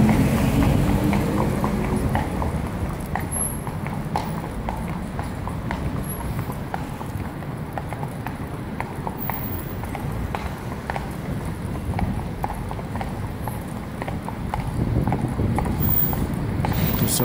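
Fiaker carriage horses clip-clopping through the streets of Vienna, steady hoofbeats running the whole way under a continuous wash of city and wind noise, with no talking.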